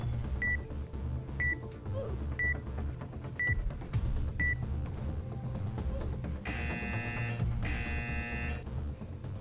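Alarm in a Roblox space experiment game, a series of evenly spaced electronic beeps followed by two longer buzzing tones, heard over a busy game soundtrack.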